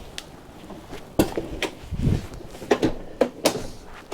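A storage drawer under the dinette seat of a 2024 Entegra Anthem 37K motorhome is pulled open, giving a series of close, sharp knocks and sliding clunks in a quiet interior.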